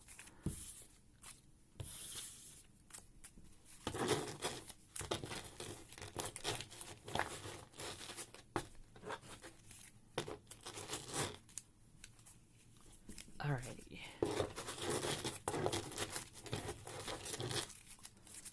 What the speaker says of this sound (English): You just shuffle them quickly.